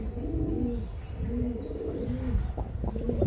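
Pigeons in a pigeon house cooing nearby, a series of rolling low coos repeating in a steady rhythm, with faint chirps near the end and no talk.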